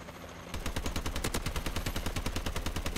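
Rapid automatic gunfire in the video game Call of Duty: Advanced Warfare, a dense, loud stream of shots that starts after a brief quieter moment and keeps going without pause, with no voices over it.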